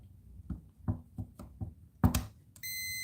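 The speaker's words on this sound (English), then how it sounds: "if we go to continuity, it might beep" A few soft taps and clicks, then a sharp steady multimeter continuity beep that starts suddenly and holds unbroken to the end.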